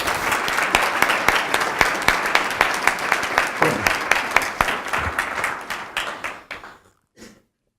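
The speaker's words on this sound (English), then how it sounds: "Let's give a big hand of applause to Mårten first" Audience applause after a lecture in a lecture series, loud, crisp clapping from a modest crowd with individual claps audible, thinning out and stopping near the end.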